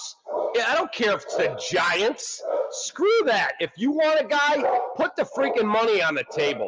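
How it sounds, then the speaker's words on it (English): A pet dog barks and yips intermittently in the background beneath a man's continuous, animated talking, the barks faint and partly masked by the voice. "That's my dog,"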